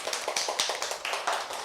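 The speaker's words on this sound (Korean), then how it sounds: "자, 박수." Children in an elementary classroom clap together, quick uneven claps repeating in bursts for under two seconds, fairly soft and close.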